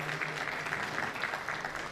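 Audience applause at an evening gala as a guest is called to the stage, a dense, even patter of many hands clapping at moderate distance.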